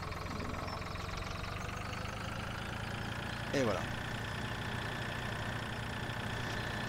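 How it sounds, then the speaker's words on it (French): A tractor engine idles in the video game Farming Simulator 2013, a steady low rumble running throughout with a brief louder blip midway, while someone talks quietly over it. "Ça, c'est le tracteur."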